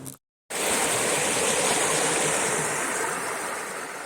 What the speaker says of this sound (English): The water looks beautiful running.